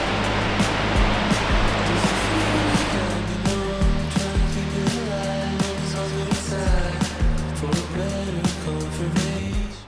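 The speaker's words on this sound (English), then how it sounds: "And here we are at the top dam. It is full today." Water pours steadily over the wall of a full dam, a broad continuous rushing roar, close and loud, with a low engine hum layered underneath for much of the time.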